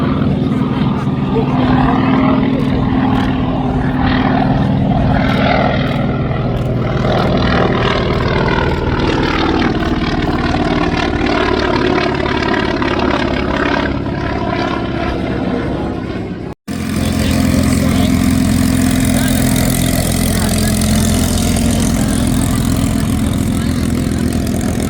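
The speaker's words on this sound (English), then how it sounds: "The Avenger was the largest carrier-based aircraft in Second World War." A WWII Grumman Avenger carrier-based aircraft's engine runs at a California airshow, a steady loud propeller drone throughout with a commentator talking over it.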